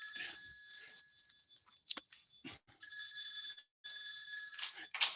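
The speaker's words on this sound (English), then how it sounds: "The phone was ringing." A telephone rings repeatedly during a council meeting on ending the HIV epidemic, its steady two-tone electronic trill repeating in bursts with brief gaps, fairly close and clear, with a few faint background bumps but no talk over it.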